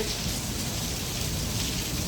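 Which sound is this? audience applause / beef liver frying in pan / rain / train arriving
rain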